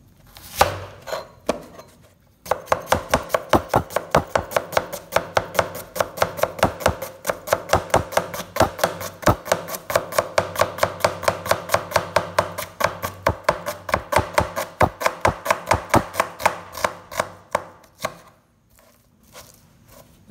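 Rapid, steady chopping with a large curved ulu knife blade on a board, dozens of sharp close taps in an even rhythm lasting most of the stretch, preceded by a few scattered knocks and trailing off at the end.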